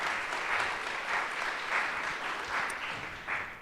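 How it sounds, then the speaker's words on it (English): Steady audience applause after a conference panel discussion on AI, voice and chatbots, dense clapping from a roomful of people that keeps going without a break, fairly loud and even, with no voice over it. "let's give our panelists a round of applause"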